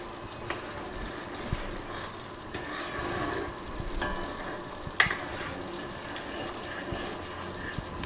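Watermelon halwa cooking slowly in a pan over a low flame, giving a soft, steady bubbling sizzle with occasional faint stirring taps and one sharper clink, no talk.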